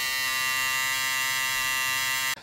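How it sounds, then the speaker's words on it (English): A close electric shaver runs with a steady, even buzz and no talking, then cuts off abruptly at the very end. "this electric shaver works on me now because my whiskers are more coarser."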